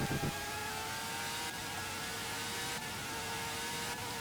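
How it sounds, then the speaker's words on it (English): An engine from the Formula 1 97 video game drones steadily at high revs, a thin buzzing tone with faint gear-shift breaks, moderately quiet and continuous without speech. "Just checking that engine sound I can hear is ahead and not from behind"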